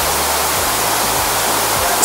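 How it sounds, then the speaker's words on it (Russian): A small stream trickles down from the top of a mossy cliff near a waterfall in a traditional Balinese village, a steady close rushing wash of water with no pauses and no talk. "Смотрите, такой маленький еще ручей идет."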